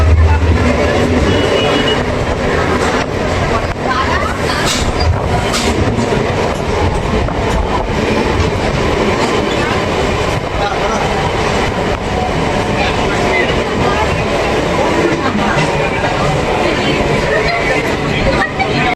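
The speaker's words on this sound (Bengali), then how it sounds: "এই মুহূর্তে আমাদের ট্রেন প্রবেশ করছে গোবরডাঙ্গা রেলওয়ে স্টেশনে।" A local train rolls into Gobardanga railway station on the Barasat to Bangaon line, with steady loud rumbling and clattering wheels throughout and faint babble of voices in the background.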